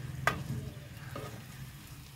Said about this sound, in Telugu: ఉల్లిగడ్డలు ఉల్లిగడ్డలు కాదు ఏగుతున్నాయి